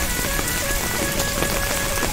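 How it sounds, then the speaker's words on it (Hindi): Heavy rain pours onto a waterlogged street in Jammu, a dense, steady hiss of drops close by with no pauses and no voices. "सुन लो कितनी तेज बारिश हो रही है यहाँ पे"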